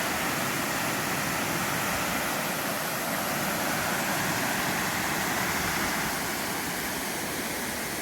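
A small waterfall spilling into the Lostine River in the Eagle Cap Wilderness, a loud, steady, full rush of water that holds constant with no pauses.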